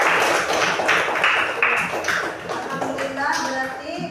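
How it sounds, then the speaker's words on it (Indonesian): Children clap their hands in a classroom during an Islamic religious lesson, a few quick claps mixed with taps and chatter, heard close and moderately loud. "Iya, pas tepuk tangan."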